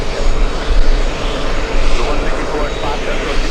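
Jet airliners such as a Delta 757 and an A330 rumble loudly and steadily on the ground at JFK airport on a hot day. The broad engine roar continues throughout while voices talk over it.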